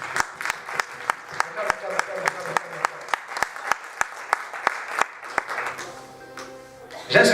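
A church congregation claps along in a steady rhythm, sharp hand claps landing about every third of a second over a murmuring crowd and voices, the clapping thinning toward the end before a louder burst.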